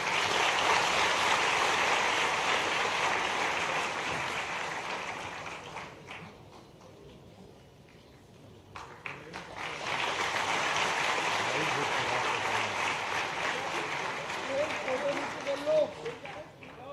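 An audience claps at a government event in Madhya Pradesh honouring the Chief Minister. A sustained wash of applause fades into a brief lull, then swells again and carries on steadily to the end.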